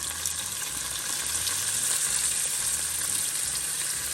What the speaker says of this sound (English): you're just gonna let this burn a little bit in the oil, and I'm going to also add my curry